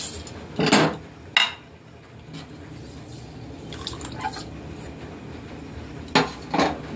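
A rice cooking pot being handled and scrubbed in a kitchen, with a few sharp metallic clanks and scrapes separated by quiet dripping and faint rustling nearby.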